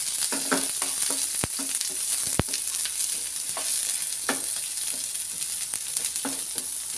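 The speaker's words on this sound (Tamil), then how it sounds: "வெங்காயம் போட்டு நல்லா ப்ரௌன் ஆகட்டும்." Sliced onions fry in oil in a pan for rice cooking, a steady close sizzle with scattered crackles and occasional stirring clinks, no voices.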